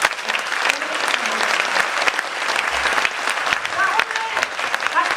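Crowd applause at the launch rally of a national coalition against same-sex marriage, dense sustained clapping throughout with faint voices mixed in.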